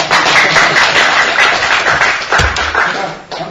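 Audience clapping at a Korean lecture on North Korea's nuclear program, a dense, steady burst of many hands that carries on for several seconds, with a few louder thumps near the end.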